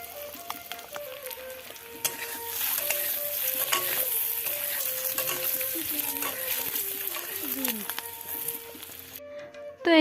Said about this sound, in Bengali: এই যে ডিমটাকে চলো ভেজে নিই